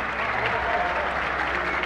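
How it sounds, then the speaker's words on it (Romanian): Crowd applause greets the winner of a heavyweight bout at a Romanian gladiatorium fight event, a continuous, even clapping roar with faint voices mixed in. "aplauze pentru primul învingător de la Se caută un greu. Bogdan Stoica!"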